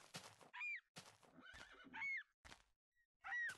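A Minecraft horse neighs three times, each a short high whinny separated by pauses, with soft game thumps and clatter between the calls, fairly close and clear.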